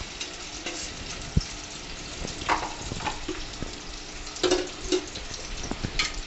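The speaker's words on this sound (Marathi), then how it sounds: "स्लो फ्लेमवर आपल्याला हे असं हे सर्व बटाटे आपल्याला असे परतून घ्यायचे आहेत" Potatoes for dum aloo fry in oil over a slow flame, a soft continuous sizzle with occasional scraping stirs and light clatter, fairly quiet and close.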